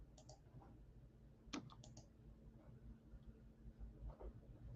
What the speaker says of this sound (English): Sorry about this, all the clicking.